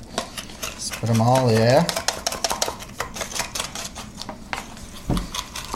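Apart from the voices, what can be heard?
whisking brown sugar, white sugar and cinnamon in a bowl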